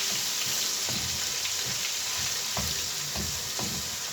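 A big spoonful of garlic frying in a pan, giving a steady, loud sizzle with a few scraping stirs through it.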